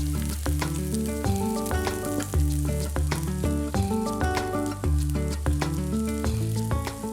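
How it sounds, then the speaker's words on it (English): Crumbled sausage frying in oil with garlic, chili and fennel seeds for a creamy gnocchi sauce, with a steady, loud sizzle full of crackles and pops and no voices. "we're just going to add them to the oil. And so this is going to sizzle for about 5 to 8 minutes"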